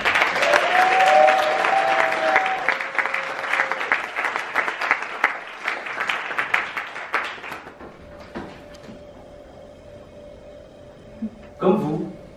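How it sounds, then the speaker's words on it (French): An audience breaks into loud applause to welcome a speaker to a talk on procrastination, the dense clapping fading over several seconds before a brief burst near the end, with some background voices. "Je vous demande d'applaudir Monsieur Johan Yang Ting."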